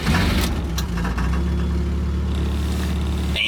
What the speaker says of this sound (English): I think it's time we give her a little cold start and see what she can do